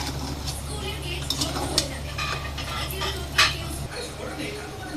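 A fried egg is tossed through chow mein noodles seasoned with black pepper in a pan, giving scattered metallic clinks and scrapes of a utensil against the pan over a steady low kitchen hum.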